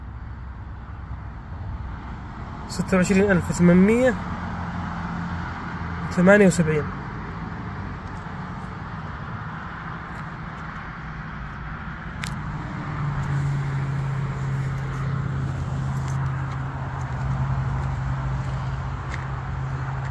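Interior of a 1976 Buick Electra while driving: a steady low engine and road rumble fills the cabin, with someone talking over it for much of the time.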